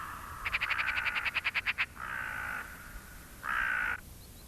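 Noisy crows near a Mongolian forest give a rapid run of pulsed caws, then two longer, harsh drawn-out calls, fairly close and clear with no voices.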